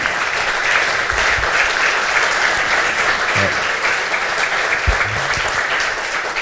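Audience at a tech talk applauding, a continuous even patter of many hands clapping, moderately loud and steady from start to finish.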